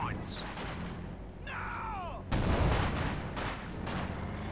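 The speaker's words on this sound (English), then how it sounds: "he's trying to clear out any mines there by shooting at the ground" Gunfire from infantry shooting into the ground to clear mines in Company of Heroes 2, with a burst of shots near the middle amid dense battlefield noise, whistling shells and ongoing rumble.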